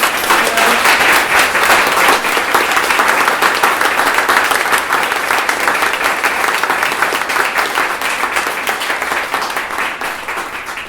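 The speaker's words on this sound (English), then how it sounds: "give a huge round of applause for our panelists" A room full of people applauds panelists at a workplace talk event, loud dense clapping that carries steadily for around eleven seconds before gradually easing off.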